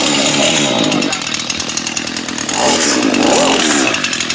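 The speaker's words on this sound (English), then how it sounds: "My husband was struggling with the weed whacker, but he figured it out." A string weed whacker motor runs loud and continuous with a raspy buzz, its pitch rising and falling as the throttle changes.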